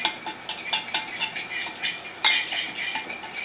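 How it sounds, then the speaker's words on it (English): A utensil stirs and clinks against a bowl as a portobello mushroom marinade spiced with cayenne is mixed. The scraping strokes come close and quick in an irregular rhythm, with no voices. "Mix it together."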